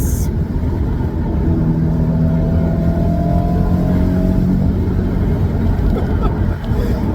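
A BMW M3 engine on the move along the Blue Ridge Parkway gives a loud, continuous drone with road and wind rumble, and the pitch rises and holds through the middle as the car pulls.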